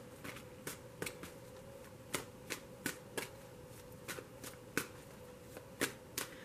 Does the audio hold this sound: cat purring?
no